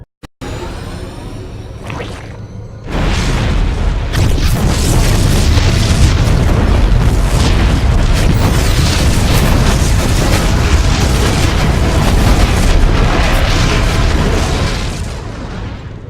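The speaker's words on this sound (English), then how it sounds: "The explosions have stopped." A heavy, continuous roar of booming explosions and rumbling blasts from the video game StarCraft 2 fills the scene after a brief quiet start, loud and sustained.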